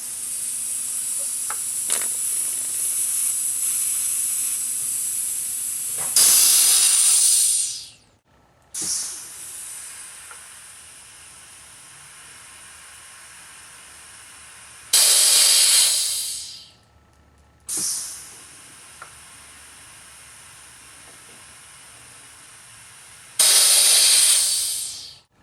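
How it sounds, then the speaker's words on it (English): Pneumatic brake pedal pumper on a vehicle with single-spring rear brakes releasing air, long steady hisses alternating with short sharp bursts of exhaust and brief silences, repeating three times, close and fairly loud. "Now we're going to apply the pedal pumper and release the valve again."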